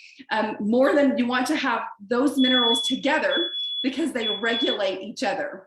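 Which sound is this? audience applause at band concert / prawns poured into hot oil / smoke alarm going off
smoke alarm going off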